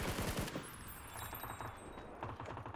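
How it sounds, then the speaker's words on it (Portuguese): Automatic gunfire from a bot in PUBG, rapid bursts of shots, loudest in a quick volley at the start and followed by further scattered bursts. "O bot me atirando, cara"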